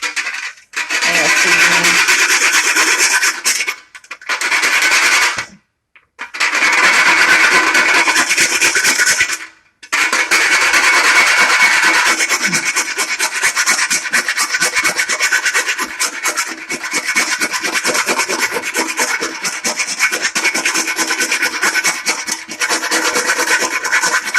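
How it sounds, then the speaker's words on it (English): Black walnut being scraped over a chicken salad makes a loud, steady rasping rub that runs for long stretches, with a few short pauses early on and no talking. "I'll scrape a little black walnut on top too."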